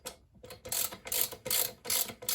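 Ratchet wrench clicking in repeated bursts while tightening rear sprocket nuts on a Kawasaki Z1000 during a chain and sprocket replacement, close and fairly loud, about four rhythmic rounds of ratcheting.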